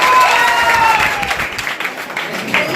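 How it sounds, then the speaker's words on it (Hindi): Audience applause at a prize ceremony for a general-knowledge competition, where a bicycle is handed out as a prize; dense clapping fills the whole moment, with tonal sounds and some voices mixed in. "जोरदार तालियां आप लोग बजा दीजिए।"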